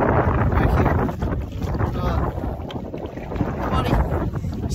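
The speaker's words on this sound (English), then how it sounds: "the wind is starting to pick up" Strong, steady wind roars across the microphone while kayaking on Lake Erie, a continuous close buffeting rush with faint water movement beneath.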